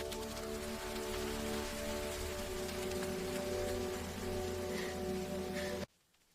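Steady rain falling at night, a dense, even hiss with a low rumble underneath, continuous and fairly close, cutting off abruptly near the end.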